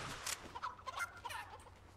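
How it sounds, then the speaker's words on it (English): Poultry calls from the video game Fortnite, a run of clucking and gobbling bursts that rise and fall over about two seconds at moderate level, with no talk. "Chickens are so loud."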